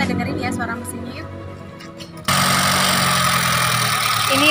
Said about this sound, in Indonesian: suara mesin Honda Jazz RS Matic 2010